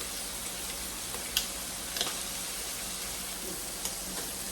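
Shrimp sizzle and fry in a hot pan for shrimp fried rice, a steady crackling hiss throughout, with a few brief clicks and taps as the pieces are flipped over.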